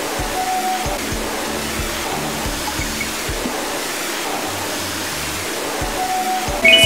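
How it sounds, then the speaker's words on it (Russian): Strong jet of water spraying a dirty car clean, a steady loud hiss of rushing water that continues unbroken throughout, with no voices. "Сначала они смыли грязные пятна сильным напором воды."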